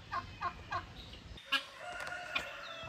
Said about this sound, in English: So I am going to let the chickens out